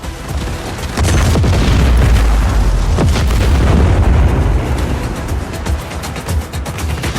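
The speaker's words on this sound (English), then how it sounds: "But the explosion, the gunfire, it's unnerving." A loud, booming explosion in the video game Just Cause 4 with a rumbling low-end tail that lingers and slowly fades, with no voices.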